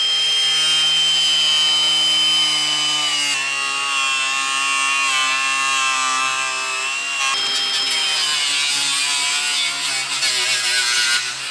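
A power tool cuts into a GQ car dash panel, giving a loud, continuous high-pitched whine that shifts pitch abruptly a couple of times as the load changes, with no talk.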